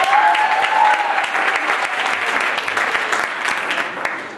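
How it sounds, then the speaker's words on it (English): Audience at a talent show breaks into a dense, steady round of applause that holds strong from start to finish, with a few whoops rising above the clapping. "All right, now, let's give a round of applause."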